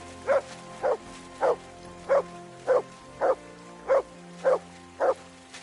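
A dog in a video game barks nine times in an even, steady rhythm, each bark short and clear at moderate volume over a quiet background.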